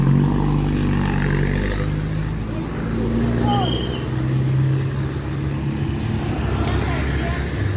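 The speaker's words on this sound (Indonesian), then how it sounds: "ini ada mobil bus 3/4 yang udah dari dalam tadi masuk" A medium-size three-quarter bus rolls in, a close, continuous low engine rumble with a slight swell as it moves, under a voice talking throughout.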